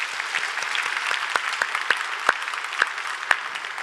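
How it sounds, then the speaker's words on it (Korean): A church congregation claps in encouragement, a steady wash of many hands with a few sharper individual claps standing out near the front. "이분들 위해서 우리 격려하는 박수 한번 보내드릴까요?"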